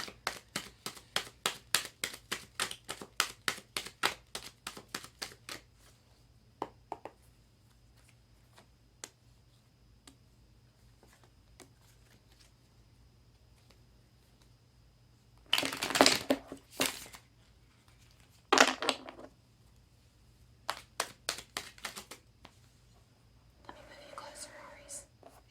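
Tarot cards being shuffled close up, a quick run of crisp riffling snaps at the start, then quiet with scattered taps and bursts of card handling, under soft whispering.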